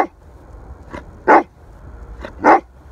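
A dog being put through obedience and trick training barks sharply twice, loud and close, with a few softer yips and whimpers between the main barks.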